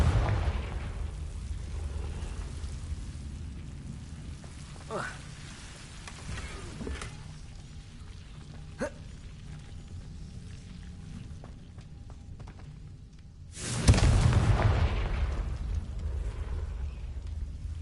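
A Confringo fire-blast spell in Hogwarts Legacy goes off with a sudden loud burst near the end, rumbling on over a steady rain-like hiss, after a few faint pops and clicks earlier.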